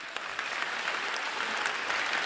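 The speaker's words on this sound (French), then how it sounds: "Qu'on peut applaudir encore" An audience at a university teacher-education diploma ceremony applauds the graduates, a dense, steady round of clapping filling the hall throughout.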